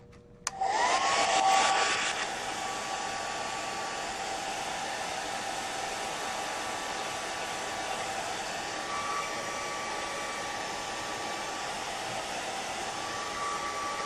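A hair dryer blows steadily on a wet gelli plate print, a loud airy whoosh starting abruptly after a brief click and running continuously, louder in the first couple of seconds, with no talking.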